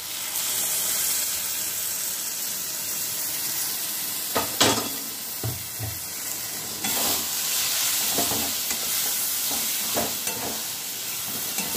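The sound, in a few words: sautéing cashew-coconut paste with pointed gourd and paneer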